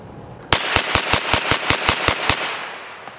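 A Smith & Wesson M&P FPC 9mm folding carbine fires a rapid string of about ten sharp, evenly spaced shots outdoors, loud and close, each report ringing briefly before the next.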